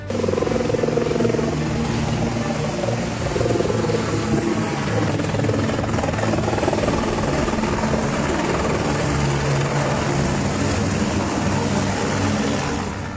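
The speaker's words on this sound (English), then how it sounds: "Helicopters making repeated water drops support ground crews" Loud, continuous firefighting helicopter rotor thrum and engine drone during repeated water drops, close and steady throughout with a low pulsing beat.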